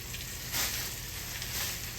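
Turkey tails frying in a hot skillet, a loud, dense, continuous sizzle heard up close with slight swells.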